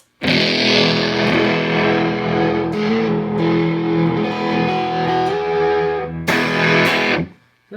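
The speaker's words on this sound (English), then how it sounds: "when I engage the Fuzzface with everything at 12 o'clock, here's the kind of tone you're going to get" An electric guitar through a Dunlop Germanium Fuzz Face Mini pedal, all knobs at noon, plays thick, saturated fuzz chords that sustain loudly, with a fresh strummed attack near the end before cutting off.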